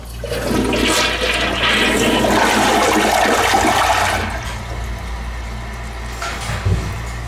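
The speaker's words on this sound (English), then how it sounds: "We're gonna flush it right here on camera." An American Standard toilet in a Glo by Best Western hotel room in Asheville, NC, flushes loudly and close, with a rushing surge for about four seconds before settling into a quieter refill trickle.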